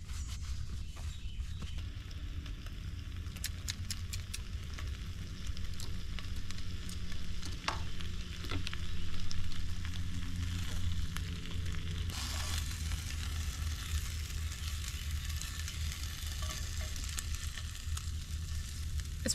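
Bacon frying in a pan over an outdoor campfire, a steady close sizzle with crackles and pops throughout, plus occasional scraping and clinks of a knife against the pan, no talking.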